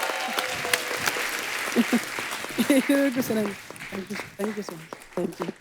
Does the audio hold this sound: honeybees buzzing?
no